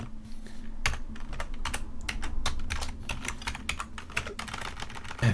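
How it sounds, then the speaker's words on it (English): Rapid typing on a computer keyboard while writing Go code, with irregular bursts of close, crisp key clicks over a low steady hum and no talking. "so this typing is still not my strong skill"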